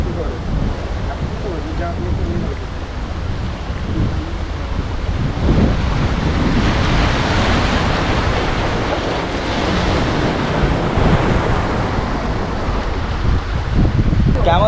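Sea waves roll in steadily at the Digha beach estuary, a broad continuous surf roar with wind buffeting the microphone, loud and close throughout.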